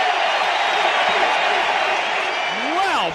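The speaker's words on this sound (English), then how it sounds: "Here's the applause on that." A large crowd roars and claps continuously, a broad wash of cheering with a commentator talking over it.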